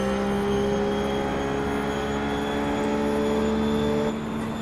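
A GT3 race car engine on an onboard lap of Monza drones loudly at a nearly constant pitch, then the note drops slightly near the end, with no talking over it.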